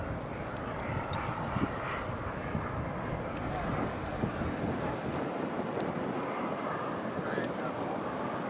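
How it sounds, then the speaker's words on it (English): A United Boeing 757 airliner rolls out after landing at Edinburgh Airport, its engines giving a steady, broad roar heard at a distance, with a voice talking over it and some wind buffeting the microphone. "That's United 757 landed."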